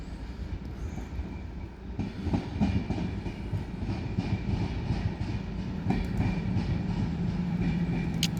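An engineers' train rolls through Tonbridge station on the South Eastern Main Line, a steady rumble with rhythmic clickety-clack over the rail joints and faint wheel squeal, close and sustained for the whole stretch with no talking.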